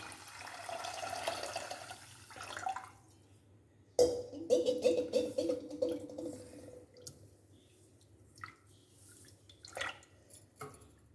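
Water is poured into washed millet in a kitchen pot for cooking, a splashing, trickling pour lasting a few seconds at close range, followed by dripping and small handling noises.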